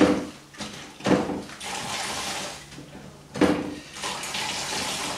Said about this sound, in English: I'm going to just rinse that once more